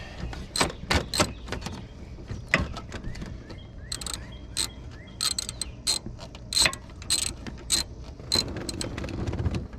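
Socket ratchet turning a bolt on a 2015 Silverado LML Duramax, irregular clusters of sharp metallic clicks and clatters up close, fairly loud, with uneven pauses between swings.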